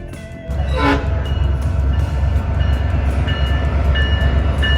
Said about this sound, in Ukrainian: У Вінтерпарк ми будемо їхати потягом.